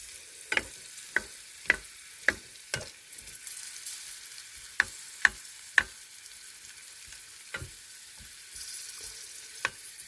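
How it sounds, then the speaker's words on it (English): Hash browns fry in a pan with a soft, steady sizzle, broken by about a dozen sharp scrapes and taps of a utensil at irregular intervals, quiet and close with no voices. "you can see these are starting to sizzle a bit"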